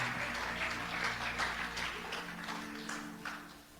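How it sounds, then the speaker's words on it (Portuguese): A church congregation applauds together, a dense steady wash of many hands clapping with no voices on top, holding fairly level for a few seconds before easing off slightly toward the end. "dá uma salva de palmas para Jesus"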